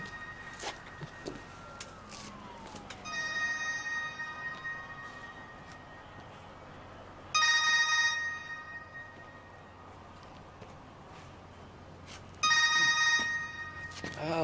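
A cell phone rings during a tense crime-thriller movie scene, its electronic tone repeating in bursts over a low ambient background, with a descending sweep early on and no speech.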